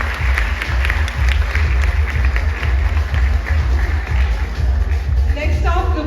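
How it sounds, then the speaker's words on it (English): Audience at an Indian brand influencer marketing event gives a big round of applause, steady dense clapping filling the room for several seconds, close and continuous, with a few voices rising near the end. "big round of applause."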